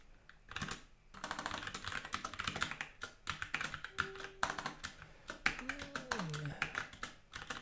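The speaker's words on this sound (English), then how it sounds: "Still not used to my snazzy keyboard with the function key on it." Rapid, close clattering keystrokes on a computer keyboard with a function key run almost without pause, dense irregular taps with short gaps, while a voice briefly hums or murmurs in the middle.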